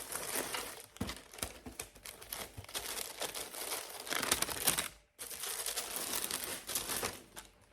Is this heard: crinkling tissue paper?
yes